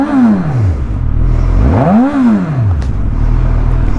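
A Suzuki Katana 1000cc motorcycle fitted with a race-fit exhaust revs loudly and close by: two sharp rising-and-falling throttle blips, then a steady low engine drone, with no talking.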